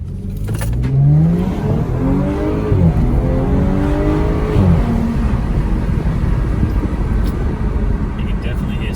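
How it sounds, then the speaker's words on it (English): An Audi S5/S4 B9 engine with a modified intake revs and pulls up through its range, with a throaty intake roar that stays loud and close throughout, over a steady background rumble. "here's some induction noise"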